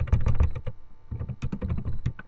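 Fingers type quickly on a computer keyboard, producing close, dense bursts of clicking that pause briefly and then resume.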